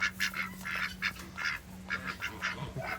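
Ducks and geese calling at a farm animal sanctuary, repeated nasal quacks and honks in quick irregular bursts over a steady low hum.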